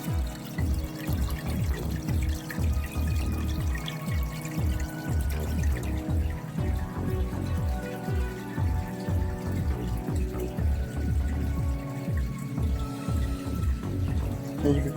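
Water pouring and gurgling into a cut plastic water bottle while setting up a new aquarium with sand, a close, continuous splashing flow with rhythmic bubbling pulses.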